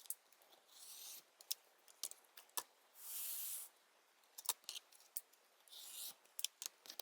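Trimming the top and bottom of a quilt block, with sharp clicks and snips, a steady slicing rasp in the middle, and more scattered cutting ticks, close and quiet.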